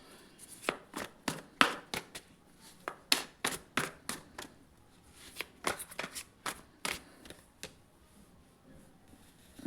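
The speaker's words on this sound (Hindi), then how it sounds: "एक सेकंड में पहले सारे कार्ड हटा लूँ" Playing cards are handled and shuffled close up, a series of quick crisp riffling bursts and slaps in an uneven rhythm with quiet gaps between them.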